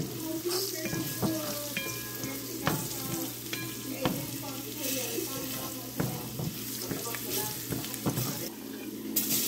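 Garlic toasting in a hot pan, a close, steady sizzle broken by scraping stirs and utensil clicks, with faint talk in the background.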